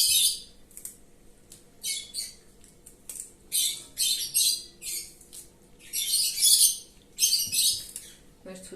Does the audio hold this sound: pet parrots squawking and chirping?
yes